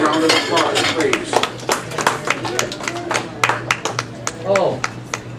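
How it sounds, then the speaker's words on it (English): A small audience at a College of Complexes lecture gives a round of uneven applause, sharp individual claps and clinks rising and falling while people talk nearby. "Let's give him a round of applause, please."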